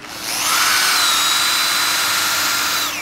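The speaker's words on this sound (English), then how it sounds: "So I'm gonna take a countersink and I'm gonna go ahead and run through this side" A power drill fitted with a countersink bit bores into an oak mantel in a wood workshop, giving a loud, continuous high whine that holds steady for nearly three seconds with no talking.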